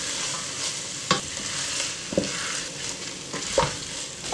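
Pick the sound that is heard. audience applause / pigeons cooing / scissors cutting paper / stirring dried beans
stirring dried beans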